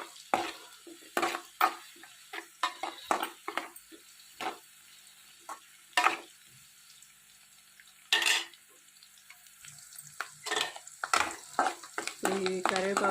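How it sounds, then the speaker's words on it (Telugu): Curry leaves fry in a pan with onions, heard as short sharp bursts of crackle and spatter between quieter gaps, mixed with clinks and stirring scrapes. The bursts are irregular and close. "ఈ కరివేపాకు కూడా వేగింది కదా."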